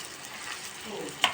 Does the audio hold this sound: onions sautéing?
yes